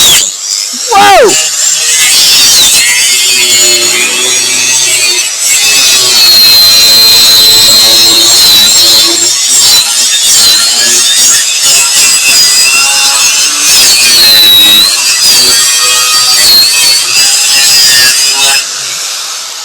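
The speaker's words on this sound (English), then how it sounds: "I'm pretty dangerous with a grinder, evidently." Angle grinder cutting a metal bar for an autograss race car, a loud, close, continuous whine and grind whose pitch shifts as the load changes, with someone speaking briefly near the start.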